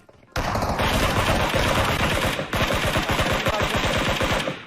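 Rapid automatic gunfire from a battle royale video game rattles in a loud, dense burst lasting several seconds, with a brief dip before the firing resumes.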